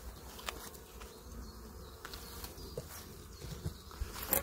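Bees buzz close by around a hive during a spring inspection in a steady, wavering drone, with small bumps and rustles now and then.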